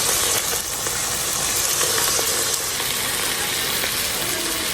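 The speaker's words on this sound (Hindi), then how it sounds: "इधर प्याज फ्राई हो रहे हैं।" Onions frying in a pan for a karela gosht dish, a steady, dense sizzle that hisses continuously and fairly loudly throughout, with no voices.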